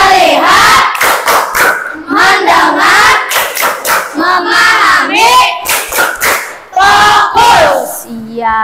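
Classroom of Indonesian schoolchildren performing a loud rhythmic clapping chant, bursts of claps alternating with shouted unison syllables, close and energetic, ending with a brief spoken voice.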